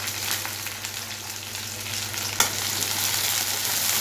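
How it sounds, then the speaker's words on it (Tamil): Vadagam and curry leaves frying in hot oil in a pan, a loud dense crackling sizzle that holds steady and swells slightly, with one sharp clink partway through. "வடகம் பொரிஞ்சிச்சு. இப்போ கருவேப்பிலையும் போடுறேன்."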